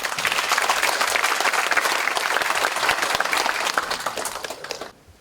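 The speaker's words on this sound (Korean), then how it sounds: "큰 박수로 맞아주시기 바랍니다" An audience applauds to welcome a hospital chairman to the podium at a gratitude-sharing event, a full, even wash of clapping that stops abruptly near the end.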